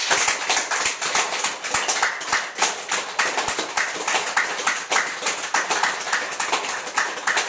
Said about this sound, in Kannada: ಈಗ ಜೋರಾಗಿ ಚಪ್ಪಾಳೆ ತಟ್ಕೊರಿ.